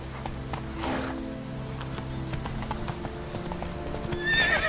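Roach, the horse in The Witcher 3, gallops with steady, rhythmic hoofbeats and gives a whinny, all under sustained in-game background music.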